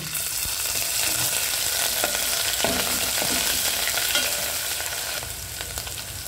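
Garlic frying in hot oil in a pan for stuffed brinjal curry: a dense, loud, continuous crackling sizzle with faint stirring scrapes.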